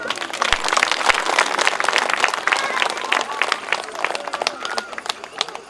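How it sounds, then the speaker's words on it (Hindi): Audience applause at a Bhagavat Katha closing ceremony in Najafgarh, Delhi, honouring Hiraballabh Joshi: dense, steady clapping from a large crowd fills the whole stretch, with voices mixed in. "जोरदार हीराबल्लभ जोशी जी के लिए तालियां।"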